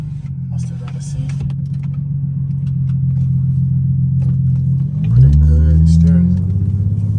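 An Infiniti G37 with an exhaust leak idles with a loud, steady low drone, then revs up into a deeper, louder rumble, while people talk briefly over it.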